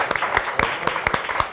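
Scattered, irregular hand claps from a small studio audience at a Ramadan broadcast event, a handful of sharp claps close by and spread unevenly across a brief moment.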